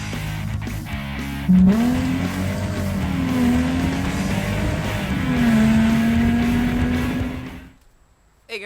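A Mercedes CLK55 AMG with the M113 engine runs close by, its exhaust note rising and falling in a few throttle swells before cutting off abruptly near the end.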